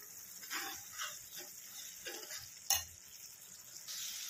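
Masala fries in oil in a pan for a black chickpea curry, giving a steady close sizzle with soft stirring scrapes and one sharp clink of the spoon against the pan partway through.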